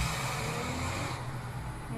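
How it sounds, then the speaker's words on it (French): Cars passing outside an open window, a steady broadband traffic wash with low rumble throughout, moderately loud and continuous, with no talking. "Génial, les voitures qui passent derrière."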